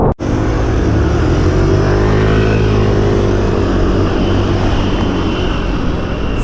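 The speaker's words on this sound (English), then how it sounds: "cars are slowly starting to come back out" Cars and scooters pass along a Bristol city street, a loud, close, continuous engine roar with a rising and falling whoosh as vehicles go by, with no talk.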